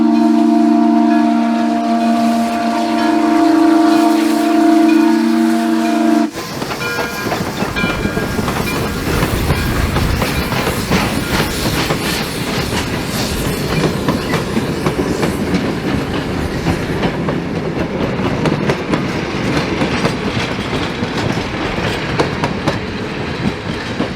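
Steam locomotive number 1630 at the Illinois Railway Museum gives a loud, sustained whistle, then its train runs close by with steady clickety-clack wheel rhythm and rumble lasting the rest of the time.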